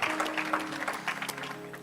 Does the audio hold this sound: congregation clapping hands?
yes